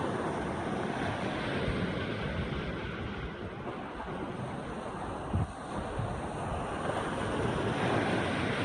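Ocean surf washes steadily onto a rocky shore during a spring walk as the tide rises, a continuous loud roar with heavy wind buffeting the microphone throughout.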